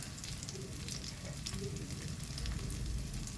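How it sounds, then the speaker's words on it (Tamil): Kara kuzhi paniyaram batter fries in hot oil in a paniyaram pan, giving a continuous soft sizzle with fine crackling pops, steady and close, with no voices. "அந்த எண்ணெயிலே நல்லா பொரிஞ்ச மாதிரி பொரிஞ்சிட்ருக்குது மாவு."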